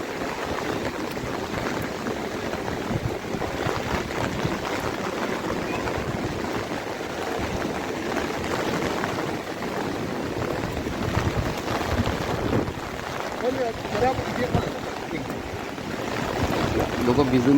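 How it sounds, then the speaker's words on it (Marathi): Heavy monsoon rain falls at the Deogad windmills on the coast, a dense, steady roar of rain and wind that holds throughout without any break. "पण पाऊस देखील जोरात आहे"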